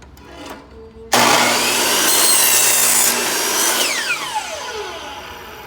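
A miter saw spins up and slices through a piece of wood, a loud, sustained whine and rasp of the blade biting in, then the motor winding down as the cut finishes.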